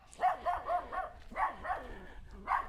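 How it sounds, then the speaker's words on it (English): A very little dog barks in a quick series of sharp, yappy calls in short bursts with brief pauses between them, close by and fairly quiet, with no talk over it. "Oh, this dog, same dog that chased me the other day."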